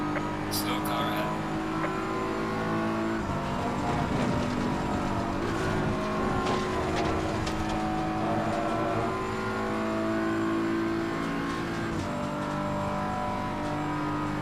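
Race cars in the sim racing game Assetto Corsa Competizione roar continuously through an online lobby race, engine drone rising and falling with shifts and passing cars, steady and loud under a speaking voice.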